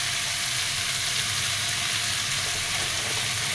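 Plenty of onions hiss and crackle in hot oil, the start of a bitter gourd fry, a dense unbroken sizzle, close and steady.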